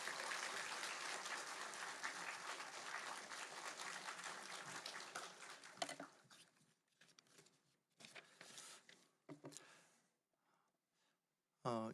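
A church congregation at Sunday worship applauds to welcome the pastor, dense clapping for about six seconds that then thins into scattered claps and quiet murmurs before fading to near silence.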